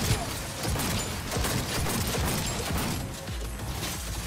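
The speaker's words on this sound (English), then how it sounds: "who's shooting me from this side?" Gunfire in the video game Cyberpunk 2077, a loud sustained barrage of overlapping shots and crashing impacts, close and chaotic, easing briefly near the end before another heavy thud.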